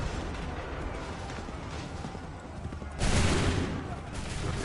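Musket volley gunfire in Assassin's Creed 3, a dense, rumbling wall of shots with a louder burst surging partway through, under battle noise and shouting voices.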